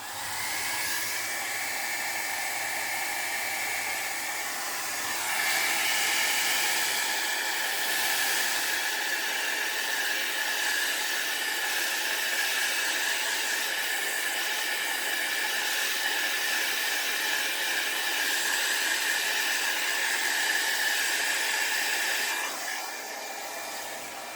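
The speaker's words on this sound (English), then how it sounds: "I'm going to take my dryer and dry that" A hair dryer drying alcohol ink blows with a loud, steady whooshing hiss for over twenty seconds, close by, cutting off near the end.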